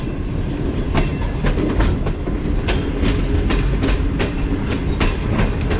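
Tezgam express train rolling toward Devna Juliani railway station, with a steady, loud clickety-clack of wheels over rail joints and a continuous rumbling roar from the carriages.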